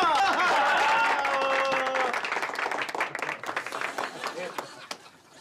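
A studio audience applauds a performer, starting beneath cheering voices and a tonal whoop, then thinning into distinct, scattered claps that fade over several seconds.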